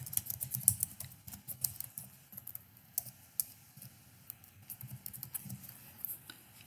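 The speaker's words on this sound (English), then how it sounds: "Now I can type inside that shape." Quiet, close typing on a computer keyboard, with irregular bursts of key clicks and short pauses.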